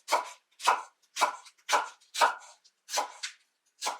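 A knife slices through cabbage for sauerkraut in about seven crisp, evenly spaced strokes, close up and clear with no talk.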